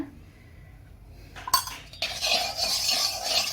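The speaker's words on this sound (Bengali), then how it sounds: "এবার আমি পেস্টটা কড়াইয়ে একটু নেড়ে নেব" A spatula clinks and scrapes in a wok as beet-carrot paste for kochuri is stirred in a little oil, starting after a quiet moment with a couple of sharp knocks, then steady, fairly close scraping.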